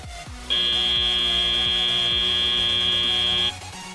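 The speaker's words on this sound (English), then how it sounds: "And as the buzzer sounds," End-of-match buzzer at a robotics competition, a loud, steady electronic tone holding for about three seconds and then cutting off, over a hum of arena noise.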